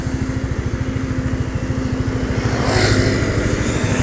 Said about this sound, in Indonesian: ini ada bus lagi Ramayana